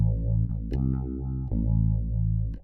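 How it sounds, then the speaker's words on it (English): Bass guitar run through an MXR Phase 90 phaser on a default mono setting, a steady sustained tone with a sweeping whooshing phase swirl that rises and falls in slow cycles, played alone and close. "phaser, which I believe is an MXR phase 90, and choose just a default mono"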